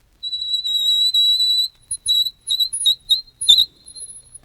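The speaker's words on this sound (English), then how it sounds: "Nails on the window pane. Loud." Fingernails scratching on a window pane, loud: a sustained, piercing squeal for over a second, then a run of short, sharp squeaks in an uneven rhythm, close and alone with no talk.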